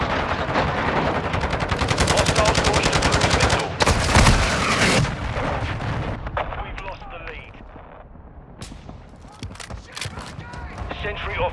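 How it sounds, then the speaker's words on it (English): A friendly mortar strike lands in a Call of Duty match on PS5, with dense rapid blasts and gunfire at first, then a loud explosion and scattered shots fading over quieter battle noise while a voice speaks. "Friendly mortar strike inbound."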